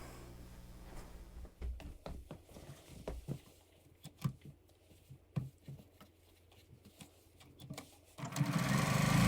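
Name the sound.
sewing machine stitching fabric scrap onto a foundation-pieced quilt block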